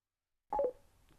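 A short electronic beep from a Cardo Scala Rider Freecom 4 motorcycle intercom: one quick tonal chirp of a few rising notes after silence, close and clear, then a faint tail.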